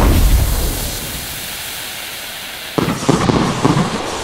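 Fireworks go off in the video game Firework Mania, a loud hissing roar that gives way to a burst of sharp crackling pops at close range.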